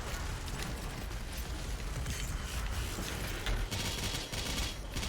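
Rapid, dense gunfire from DOOM Eternal's The Ancient Gods Part 2 keeps up a continuous loud rattle of shots and blasts for the whole stretch, with no pauses.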